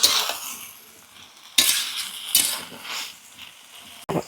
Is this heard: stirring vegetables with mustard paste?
yes